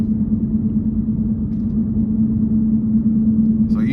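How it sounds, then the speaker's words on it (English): A loud, steady low drone of tires rolling on pavement in a 2017 Dinan-tuned BMW M2, constant throughout with a persistent hum and no talking. "these tires are loud, very loud"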